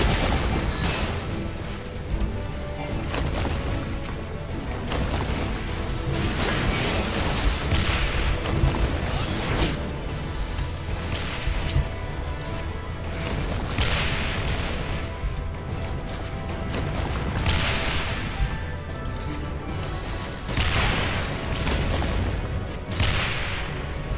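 Cannon fire and explosions in the video game Final Fantasy XIV: Stormblood, with dense, continuous rumbling booms and scattered sharp blasts that stay loud throughout a roughly 24-second battle with no speech.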